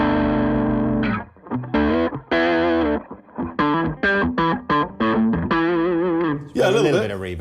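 Heavily distorted electric guitar through a tube effects pedal plays chords and short riffs with pauses, thick driven tone and a touch of reverb, loud and close.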